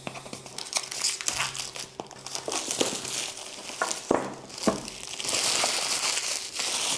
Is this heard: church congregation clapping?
no